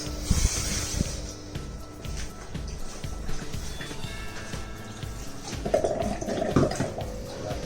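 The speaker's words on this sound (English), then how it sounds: "I'm just going to add another half cup of water." Half a cup of water is poured into a pot of mutton xacuti gravy for a Goan pulao, giving a steady splashing, trickling pour up close with some clatter and no talk.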